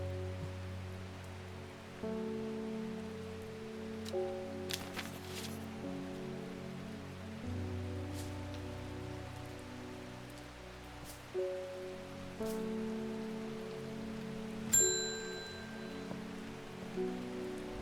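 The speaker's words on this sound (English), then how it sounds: "Does it ever stop raining in Undermere?" Rain falls softly and steadily in the Strange Horticulture game, a faint, even patter beneath quiet layered music chords, with a few small clicks and a chime-like ping partway through.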